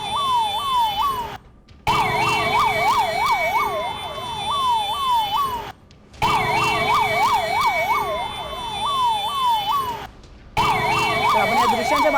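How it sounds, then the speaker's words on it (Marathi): Ambulance sirens arrive at the Kundmala bridge collapse in Maval, their rising and falling electronic wail cycling loudly and rapidly. Brief silent breaks interrupt the sound three times. "साधारण 18 ॲम्ब्युलन्स या घटनास्थळी दाखल झालेले आहेत"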